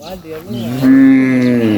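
Cattle in a large pen give a single long, loud moo that rises in pitch and holds steady, close by.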